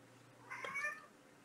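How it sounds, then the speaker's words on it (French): A cat gives a single short, faint meow indoors, heard alone against a quiet room. "Ah, un miaou, ça fait longtemps."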